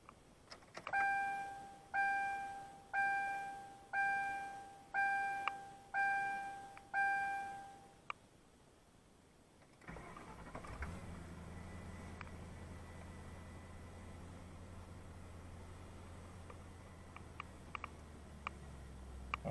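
A Ford Crown Victoria seatbelt warning chime rings six even dings in a row, then stops, and after a short quiet pause the engine starts and settles into a low, steady idle with faint clicks.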